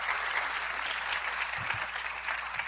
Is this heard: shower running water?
no